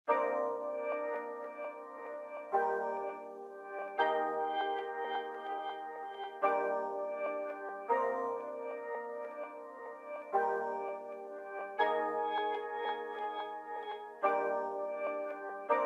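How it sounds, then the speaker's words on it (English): Layered chord of low and high steel drum one-shots with short, tiny pizzicato string plucks, struck in repeated blocks about every two seconds, each ringing then cut off, bright and fairly soft with no voices. "So I used the steel drum low, steel drum high, and strings pizz"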